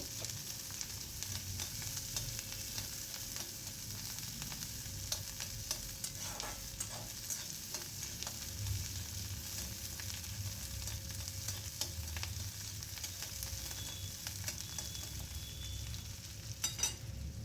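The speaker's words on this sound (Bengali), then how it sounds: "এবার দিয়ে দিলাম ডুমো ডুমো করে কাটা পেঁয়াজ পেঁয়াজটা হালকা নাড়াচাড়া করে নেব" Diced onion fries in a pan with a steady, even sizzling hiss, interrupted now and then by soft scrapes and taps of a spatula stirring, close but moderately quiet throughout.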